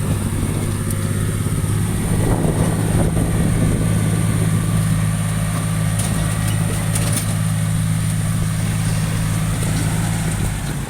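Diesel engine of a 195-series HO7D tractor working at an earth-filling site, a loud steady low drone with a constant hum throughout, close by and unbroken, with no talk over it.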